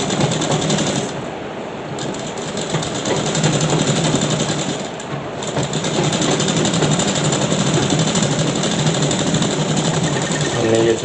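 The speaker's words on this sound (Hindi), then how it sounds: "अब हमें इसकी नीचे से सिलाई करनी है" A tailor's sewing machine stitches along the bottom of a pant pocket, running in a continuous, steady mechanical whir with brief dips in pace, close and fairly loud.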